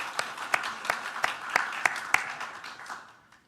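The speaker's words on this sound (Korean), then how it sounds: "우리 박수로 격려하겠습니다" Church congregation clapping together in a short burst of applause, with sharp regular claps that rise, then thin out and fade away over a few seconds.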